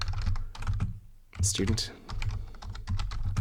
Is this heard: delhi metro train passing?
no